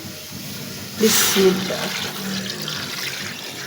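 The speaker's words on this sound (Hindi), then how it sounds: "अब हम इसमें ऐड करेंगे पानी।" Water poured from a tap or jug into a pressure cooker holding washed ingredients in a home kitchen, a splashing burst starting about a second in and tapering off, with a brief spoken word.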